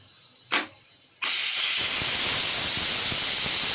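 A pressure cooker with bele saaru, a lentil dish, lets off its pressure after three whistles in a home kitchen. A short hiss comes first, then a loud, sustained rush of steam runs to the end, close and with no speech.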